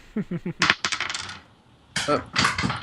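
Handful of dice rattling and clattering onto a table during a tabletop role-playing game, several quick bursts of hard clicks, a short pause, then another tumbling roll, loud and close.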